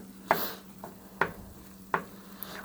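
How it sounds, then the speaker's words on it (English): Eggs and tortilla pieces cooking in a pan for chilaquiles: three sharp stirring scrapes at regular intervals over a low, steady sizzle, close and without talk. "I just take the tortilla pieces out and then cook the eggs and then mix them together"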